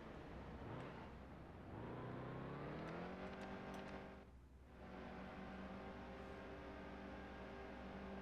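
Race car engine in the NASCAR Heat 2 video game at Martinsville, a steady loud drone that climbs in pitch, dips briefly, then holds a high sustained whine.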